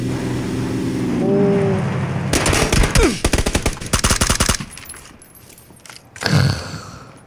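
Gunfire from the PUBG (Battlegrounds) battle royale game, played in a squad match: a rapid automatic burst of close, loud shots cracks out for about two seconds, followed by a single later report over background game ambience.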